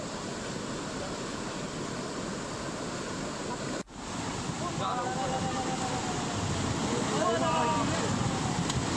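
A swollen river in the Lakhjiri area of Jalgaon rushes past a riverbed sand-mining site after heavy rain. It is a loud, unbroken roar of water with a brief dip midway and faint voices in the later seconds.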